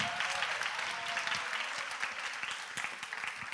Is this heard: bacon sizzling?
no